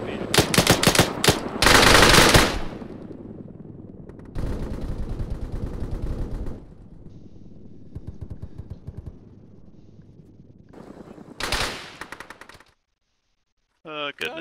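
Machine gun fire in a war video game, several loud close bursts of rapid automatic shots separated by quieter stretches of battlefield noise, with a short spoken voice near the end.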